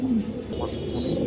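A red checker icebar Damascene pigeon at a pigeon farm gives a low, throaty coo, close and fairly loud, with a person's voice in the background.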